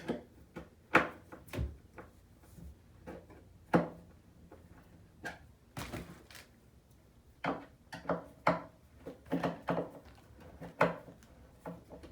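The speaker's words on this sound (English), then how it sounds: "to paint, I'm gonna first remove the drawers here" Wooden drawers are pulled out of a bathroom vanity, with irregular knocks, slides and clunks spread through the clip, close and fairly crisp against a quiet room.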